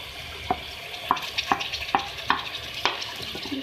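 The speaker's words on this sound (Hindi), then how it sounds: "अब मैं इसमें डाल रही हूँ पालक जो मैंने कुक कर ली थी।" Cooked spinach stirred into chicken frying in a pan for chicken palak, with regular spoon scrapes and taps over a soft, steady sizzle, close by.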